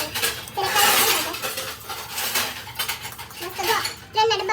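A spoon clatters and scrapes inside a cooking pot while chana dal chatpati is mixed, giving repeated metallic clinks and scraping bursts up close, with a voice talking over part of it.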